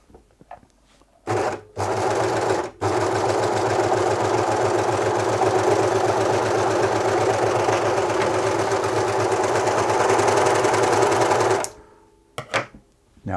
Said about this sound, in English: Now I haven't serviced this machine either, so that's why it's sounding a little bit rough.